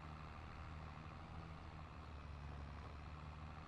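A tractor in a farming game idles and runs with a steady, even engine drone, faint and constant throughout, no talking over it.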